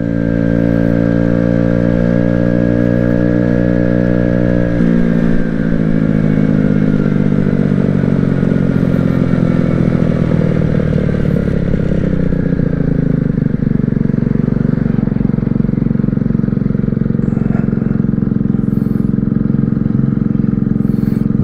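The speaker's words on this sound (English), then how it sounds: "Exhaust sounds pretty good. I'm wearing a full face helmet so you can't really hear it, but it's not bad at full tilt." A 50cc Amstar Nostalgia scooter roars at full throttle, its exhaust a steady loud buzzing drone that climbs and shifts pitch while riding, with engine harmonics and wind noise through a full-face helmet.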